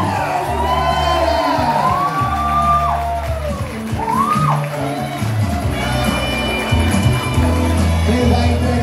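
Crowd cheering, whooping and clapping at the awards ceremony of the Anima Artur 2024 race in Artur Nogueira, loud and sustained, with scattered shouts and voices mixed into the noise.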